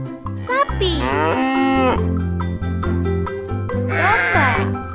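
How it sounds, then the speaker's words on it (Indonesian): A cow moos loudly and close by in long, drawn-out lowing calls that sweep up and down, with a second bellow near the end, standing alone without speech. "sapi"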